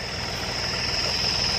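A diesel tractor engine keeps running on farm fields being prepared for soybean sowing, a steady rumbling drone with a constant whine on top, heard without voices.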